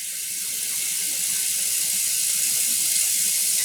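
Water runs steadily from a tap into a tub being filled for dyeing non-superwash wool yarn, a constant bright hiss that holds at an even, close level throughout with no one talking.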